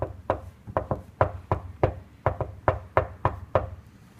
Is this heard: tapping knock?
yes